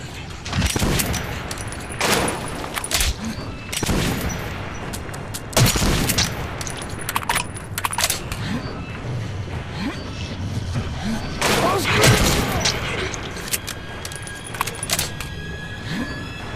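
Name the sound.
gunfire in video game Metro 2033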